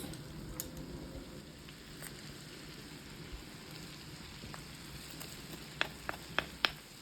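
Pepper paste sautéing in a pan, a soft steady sizzle and crackle throughout, with a few sharp clicks near the end.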